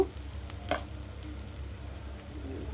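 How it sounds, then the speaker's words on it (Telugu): Ground spices such as cumin powder, chili powder and turmeric frying in a pan for curry give a low, steady sizzle with a couple of brief stirring scrapes, moderately quiet and without voices. "ఇది కూడా బాగా మిక్స్ చేసి 2 మినిట్స్ వేయించుకోవాలి."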